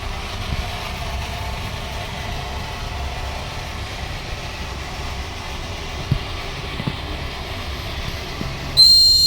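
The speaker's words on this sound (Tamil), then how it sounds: "இப்போ ட்ரெயின் மூவ் ஆக ஆரம்பிச்சிருச்சு" A model train rolls forward along its track in an accident-prevention rail demo, a steady low motor hum and rumble with a few faint clicks, ending in a brief louder burst.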